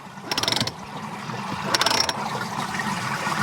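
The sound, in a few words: drum of a swimming pond drum filter being turned by hand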